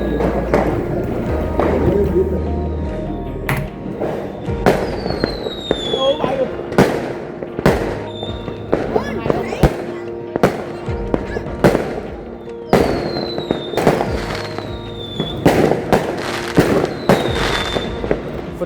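Fireworks explode in a dense, continuous barrage of sharp cracks and booms with whistling streaks, loud and close, heard during New Year celebrations.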